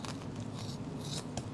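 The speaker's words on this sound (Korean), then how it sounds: "가위가 아주 잘 들면 가위로다가 자르셔도 되고요." Kitchen scissors snip through pork back ribs in several crisp, close cuts with short gaps between them. No one speaks.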